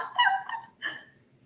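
A rooster call found through an online search for a French rooster plays back through a device. It sounds as two short, strained crowing bursts, the first longer, in an otherwise quiet room.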